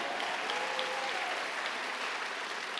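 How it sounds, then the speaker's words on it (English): Audience applause at an Asian Pacific American heritage awards event, a sustained, even patter of many hands at moderate distance, heard alone without speech. "we can clap for that."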